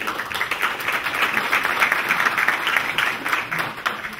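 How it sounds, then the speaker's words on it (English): A business-meeting audience gives a round of applause for a newly hired staff member, with a full, steady burst of many hands clapping that carries on evenly without a break. "Give him a round of applause."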